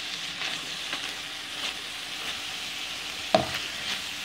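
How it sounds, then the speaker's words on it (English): About 500 grams of lean beef mince and half a red onion, seasoned with salt and pepper, fry and brown in a pan with a steady close sizzle, broken by one brief utensil clatter near the end. "the mince for my ultimate nachos, which has been cooking away for 5 to 6 minutes, browning nicely with red onions"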